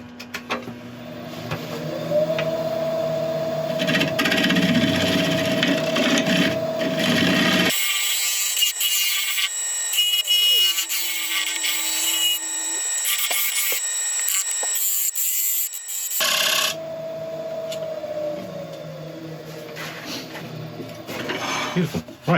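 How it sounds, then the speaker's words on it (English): A wood scraper working a turned wooden surface on a spinning lathe, a continuous close rasping scrape with the lathe's hum, broken by a stretch of thinner high-pitched scraping in the middle. "I'm going to get a scraper in there, finish off the surface"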